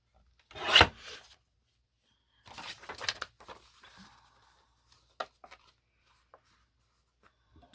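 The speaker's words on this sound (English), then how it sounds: "Let's just trim our book page to 5 inches." Paper book page being trimmed to size for a botanical slide kit, a quick rasping cut near the start followed by a second scraping pass and a few light, scattered taps and rustles in otherwise quiet surroundings.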